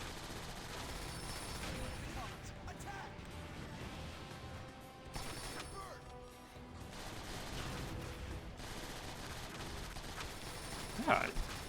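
Gunfire and explosive bursts in the video game Transformers: War for Cybertron, a dense, continuous barrage of shots and crashes at steady loudness with a sharp louder hit near the end.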